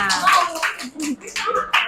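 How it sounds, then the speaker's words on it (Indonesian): A classroom of pupils claps their hands together in a few scattered, uneven bursts, mixed with voices talking over them. "Ya, tepuk tangan untuk kita semua"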